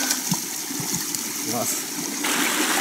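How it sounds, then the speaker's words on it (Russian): Cold mountain stream in the taiga, running straight down from the hills, as a melon is washed in it, giving a close babbling rush with small splashes while someone speaks briefly. "И сейчас мы ее помоем в ручейке, который бежит прямо с горы."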